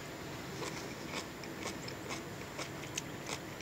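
Crunchy, partly fermented sauerkraut is bitten and chewed, giving a run of soft, regular crunching clicks close to the mouth, quiet and without speech.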